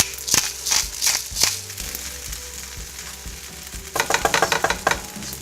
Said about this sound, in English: Now mix your rice thoroughly inside.